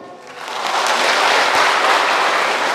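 A church congregation in Bali breaks into applause, a dense, loud wash of many hands clapping that swells quickly and holds steady with almost no talking over it.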